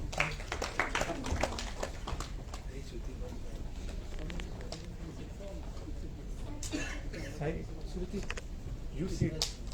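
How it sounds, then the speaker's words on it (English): An audience applauds newly inducted members of the Goa University Students Council at an installation ceremony. Steady, dense clapping fills the hall for the full stretch, with voices talking underneath. "Let's give them all a round of applause."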